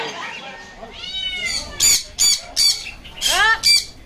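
A bird gives a series of loud, squawking calls in quick succession, close by, with shorter chirps and some background voice early on.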